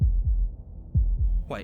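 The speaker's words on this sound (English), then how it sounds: "That was the sound of a heartbeat" Heartbeat sound effect from the video game Slay the Princess: deep, low thumps in a slow paired lub-dub rhythm, two beats per pair, close and clear, with a brief voice cutting in at the end.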